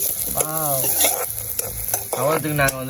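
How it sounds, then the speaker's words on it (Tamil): Food sizzles and crackles as it is roasted in a hot pan for kesari while a utensil stirs and scrapes it, steady frying noise throughout with no talking. "இப்போ வந்து நாங்கள் இதை வறுத்து எடுப்போமே"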